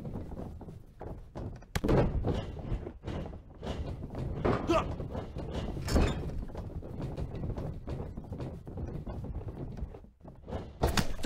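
Repeated thuds and body slams from a WWE 2K19 elimination chamber wrestling match, irregular heavy impacts landing amid crowd noise and commentary.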